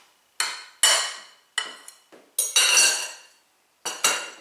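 A spatula scraped and knocked against a bowl to clear off pierogi dough, a series of sharp clinking metallic taps and short scrapes with brief pauses between them.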